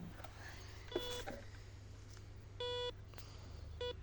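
A metal detector sweeps a garden and answers with several sharp electronic beeps, one brief tone followed by two longer steady ones, close and distinct over a low background hum, with no one speaking.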